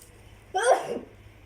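A single sharp sneeze from a person bursts out close and loud, lasting about half a second against a quiet room background.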